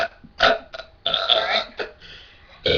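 Loud, gravelly burps in a burping contest come in several rough bursts, with one long drawn-out belch in the middle, close and prominent with no talking.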